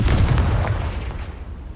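A fiery Confringo blast spell from Hogwarts Legacy erupts as a loud, booming explosion, a deep rumbling roar that stays heavy for the first second and then slowly fades.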